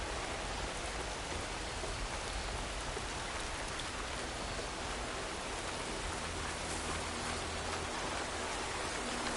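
Steady rain pours down in an outdoor scene from the video game Horizon Forbidden West, a dense, even hiss throughout with no voices.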